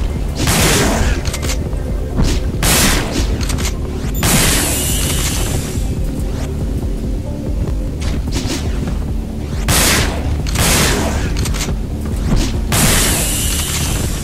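Shotgun blasts from the Resident Evil: Dead Aim video game, a series of loud, booming broadband shots spaced a second or two apart, each with a sharp crack and a short reverberant tail over a dense in-game background.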